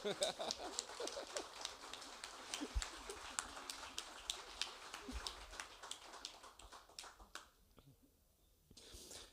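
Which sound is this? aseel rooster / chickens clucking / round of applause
round of applause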